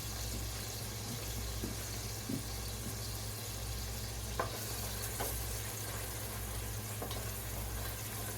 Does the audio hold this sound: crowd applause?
no